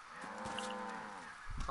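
A single drawn-out cow moo in the video game Far Cry 5, close and clear, over a low ambient background, followed by a brief rustling thump at the end.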